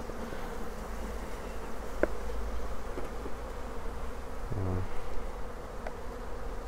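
Honey bees buzzing around an open hive during varroa treatment, a steady close swarm drone with occasional faint clicks and knocks from handling.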